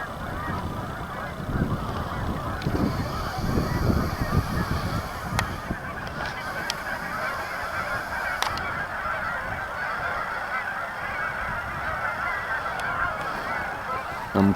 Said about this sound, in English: thousands and thousands of geese, it seems